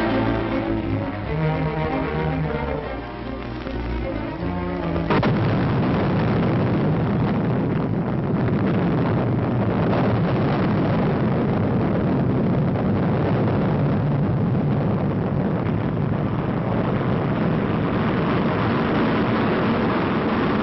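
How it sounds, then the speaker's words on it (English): An Atlas missile launch, a 1958 Project SCORE takeoff with the rocket fully loaded to 122 tons, bursts in after about five seconds of music as a loud, sustained broadband roar that holds steady to the end. "Missile goes aloft in a near-perfect takeoff."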